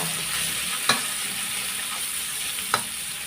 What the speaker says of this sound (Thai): ผัดพริกกระเทียมให้หอมจ้า